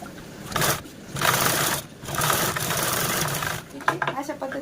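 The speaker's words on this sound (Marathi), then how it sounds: "जसा बेल्ट आपण स्टिच केला आहे सेम त्यावरती अशा पद्धतीने ठेवून स्टिच करून घ्यायची आहे" A sewing machine stitches a lining strip onto a blouse belt in short, close, whirring bursts separated by brief pauses.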